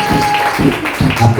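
Church congregation applauding for the Lord at a worship service, a dense close burst of clapping with voices mixed in under it.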